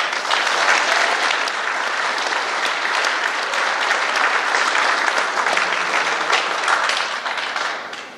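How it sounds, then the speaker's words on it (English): Dense, sustained applause fills the room as a school alumni hall of fame ceremony audience claps for honorees, loud and steady throughout, easing off only in the final moments. "Let's give them another round of applause."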